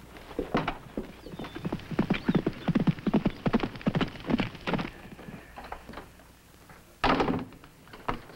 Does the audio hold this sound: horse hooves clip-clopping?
yes